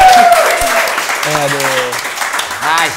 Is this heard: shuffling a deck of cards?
no